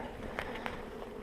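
Honeybees buzzing at an open spring hive hive that wintered on eight frames, a faint steady hum with a couple of brief louder passes close by.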